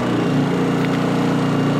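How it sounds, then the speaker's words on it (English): An inverter generator engine runs steadily just after starting, warming up before the choke is pushed in, with a continuous close mechanical drone and no talk. "Once the generator turns over, you give it a few seconds to kind of warm up"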